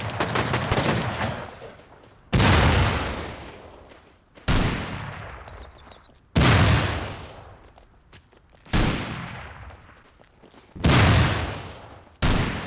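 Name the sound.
rocket launcher rockets hitting a stone base in Rust video game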